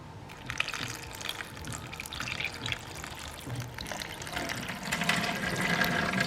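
Water runs steadily through a small model river channel carrying peas, a continuous trickling, splashing flow that builds slightly louder toward the end with no voices.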